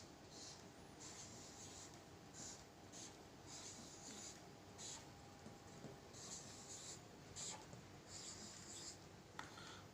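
A pen scratches out a math statement in short, faint strokes with small pauses between them, over a quiet steady background hiss.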